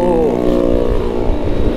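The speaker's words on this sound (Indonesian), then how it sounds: "Di bagian knalpot, ini berisik" Loud, continuous motorcycle exhaust with a rough, noisy idle, running steadily and close throughout with a slight pitch dip at the start.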